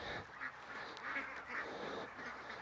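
Faint quacking from a few Orvia ducks and ducklings, brief calls scattered over a quiet, muffled background.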